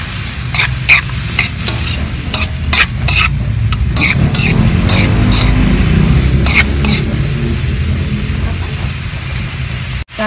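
Papaya adobo is stirred in a pan. A spoon scrapes and clatters in quick bursts over a loud, steady sizzle, then the stirring eases into continuous frying before a sharp knock at the end.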